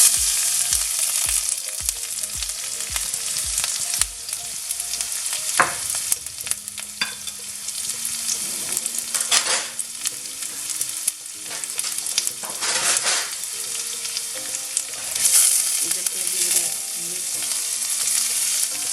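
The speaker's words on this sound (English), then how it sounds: "So I'm adding the garlic and the green chili now." Garlic and green chili hit hot oil in a pan with okra for a Bengali bhaji, giving a loud, continuous sizzle with crackles and the scrape of stirring, close up and without talk.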